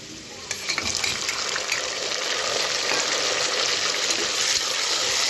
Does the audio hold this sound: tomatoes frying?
yes